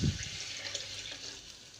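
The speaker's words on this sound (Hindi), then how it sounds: "अब मैं इसमें पानी डाल रही हूँ" Water pours into a bowl of spiced beef for stew in a home kitchen, a steady splashing stream heard up close with no talking.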